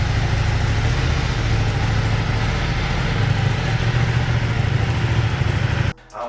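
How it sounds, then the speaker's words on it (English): A Ducati motorcycle engine idles steadily with a deep, lumpy rumble, loud and close, cutting off abruptly near the end. "The Ducati has that very exotic, you know, motorcycle noise and nice rumble to it."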